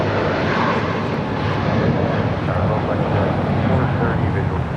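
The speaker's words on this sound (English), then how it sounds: "This is Qatar Airways 742, Qatari 71 X-ray taking off to Doha on the A350-1000." A Qatar Airways A350-1000 rolls and lifts off at LAX bound for Doha, its engines a loud, dense, continuous roar close by that holds steady with no pause.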